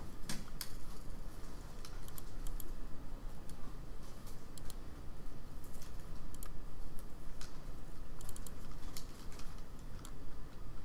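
A computer keyboard being typed on during a play session of Batman 2 Unreal, rapid close clicking keystrokes in an uneven rhythm, continuing throughout with no talk.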